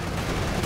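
Machine gun fire in Company of Heroes 2, a dense continuous rattle of battlefield shooting, loud and unbroken over the short stretch.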